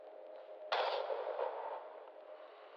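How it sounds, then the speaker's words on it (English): A single sharp gunshot bursts out in the horror video game Mouthwashing, its boom trailing into a long decaying rumble over a steady ambient drone. "That sounds like a gunshot."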